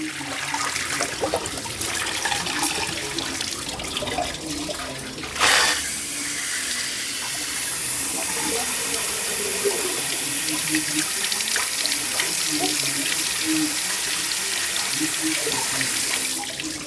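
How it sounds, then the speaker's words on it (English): Water rushes through the thermostat housing of a David Brown 995 tractor during a water pump change, a sudden loud gush after a quieter start, then a steady close hiss of flowing water to the end. "That's flushing the thermostat."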